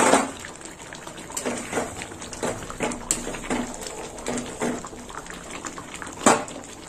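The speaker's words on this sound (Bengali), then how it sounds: "ডালটা বেশ কিছুক্ষণ ফুটবে।" Dal with bottle gourd boiling in a covered pot, a soft continuous bubbling simmer with occasional louder pops and a faint clink near the end, close by with no talking.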